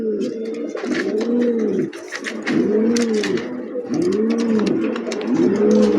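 Racing pigeons coo at close range on a pigeon farm, giving a series of rolling, throaty coo phrases that repeat roughly every second or so with little pause between them.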